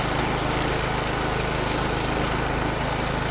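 A Hecht 5060 self-propelled lawn mower cutting tall grass gives a steady, loud, close engine drone with a buzzing low pulse, unbroken for the whole stretch.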